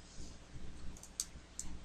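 Several sharp computer mouse clicks on a PC while installing a Minecraft Beta 1.5_01 mod, isolated taps spaced irregularly over a faint background hum, fairly close.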